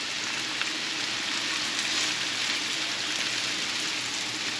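Crappie fillets fry in a hot pan, giving a constant, crackling sizzle that stays close and fairly loud throughout, with no talking.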